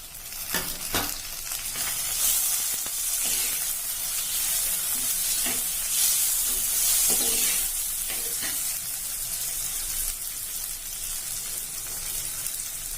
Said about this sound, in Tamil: வெங்காயம் கொஞ்சம் வதங்கிட்டு தக்காளி போட்டுக்கலாம்.